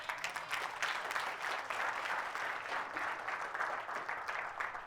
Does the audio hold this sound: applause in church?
yes